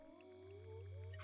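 A person imitating whale song, a faint slow gliding moan that bends upward and down, layered over a steady low hum and growing slightly louder.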